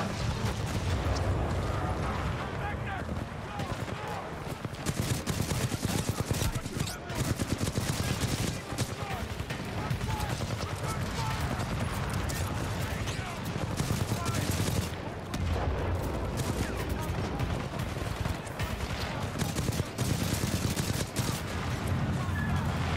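Sustained automatic gunfire in Titanfall 2 aimed at a metallic enemy, a dense, unbroken rattling barrage running loud from start to finish.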